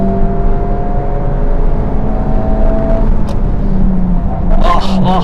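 A Honda Civic Type R corners on the Istanbul Park circuit, heard from inside as a loud, steady engine drone with road rumble, and a voice comes in briefly near the end.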